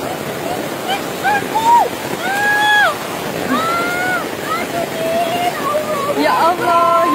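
Flash-flood water rushes loudly and continuously through a street in front of a house in Malang, East Java, its steady roar running under excited voices of people talking.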